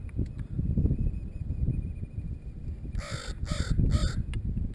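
Several ravens and crows cawing outdoors, a quick run of three loud, harsh caws near the end, over a steady low machine rumble from a drive motor on a platform rig.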